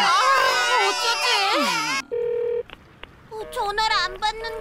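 In a children's animated cartoon, a character's crying gives way to a steady telephone tone and short electronic dialing and ringing beeps, then voices talk.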